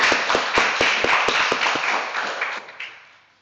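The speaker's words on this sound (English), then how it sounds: "let's just have one final applause for the all the members of the National Honor" An audience at a National Honor Society induction and awards ceremony gives a round of applause, brisk overlapping claps that start strong and taper away over a few seconds with no talking.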